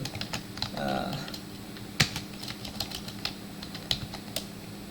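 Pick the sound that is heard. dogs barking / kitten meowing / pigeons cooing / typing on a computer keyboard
typing on a computer keyboard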